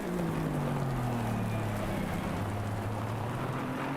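Steady rain hisses over the low drone of engines in a racing video game at Barcelona during qualifying, with a pitch sliding slowly downward as a car passes.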